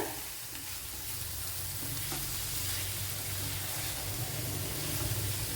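Quail eggs frying and being stirred in a pan for a Kerala-style thoran, a steady close sizzle with scraping stirs and a low hum beneath, no voices.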